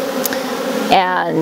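Honeybees buzz around an opened backyard hive, a dense close hum with a tonal drone and shifting pitches, as a voice speaks briefly over it.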